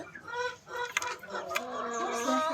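Bahama chickens cluck softly at close range with a rooster among them, a brief, quiet burst of clucks and cackles.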